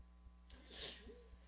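A single quiet sneeze, short and breathy, over a faint background hum with soft rhythmic ticks.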